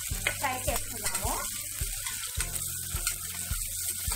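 Onions and green chillies frying in oil for leg chicken curry, with a continuous crackling sizzle broken by repeated spatula strokes and scrapes against the pan, close and moderately loud.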